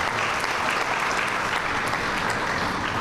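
Steady, dense applause from a ceremony audience greeting a state senator at a building topping-off event, a continuous wash of many hands clapping at close range with no pauses.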